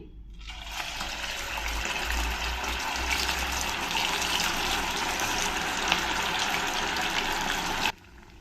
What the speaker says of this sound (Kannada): ಈಗ ಒಂದೊಂದೇ ಈ ಅವಲಕ್ಕಿ ವಡೆಗಳನ್ನ ಎಣ್ಣೆಲಿ ಹಾಕಿ ಚೆನ್ನಾಗಿ ಫ್ರೈ ಮಾಡ್ಕೊಳ್ತೀನಿ